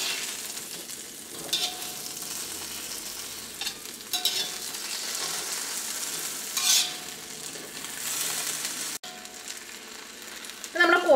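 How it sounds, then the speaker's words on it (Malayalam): A Kerala kozhi roast of chicken with fried onion, ginger and green chillies is stirred in a sizzling pan, with a steady close frying hiss and repeated scraping spoon strokes. "ഇതെല്ലാം കൂടിയിട്ട് നന്നായിട്ടൊന്ന് മിക്സ് ചെയ്യാം."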